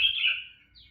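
A single songbird gives one bright, clear chirp that trails off, close and fairly faint, on a cool, breezy morning after overnight rain, with no voices.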